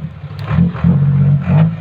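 Six-wheel truck engine revs in steady surges while pushing a stalled vehicle from behind, a close, low rumbling drone.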